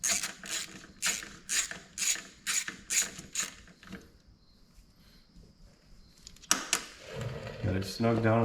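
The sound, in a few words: socket ratchet tightening a bolt on Polaris Sportsman 500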